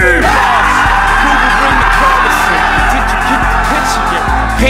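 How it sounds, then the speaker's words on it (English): A football team lets out a loud group victory scream, many voices yelling and whooping together in a sustained, distorted roar with a few thumps underneath. "Victory scream!"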